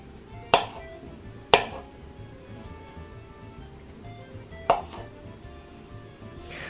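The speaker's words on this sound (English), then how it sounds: "what I'm going to do now is I'm probably going to cut these in halves" A knife chops small olives into halves on a cutting board, three sharp, distinct cuts spaced irregularly against a quiet kitchen background.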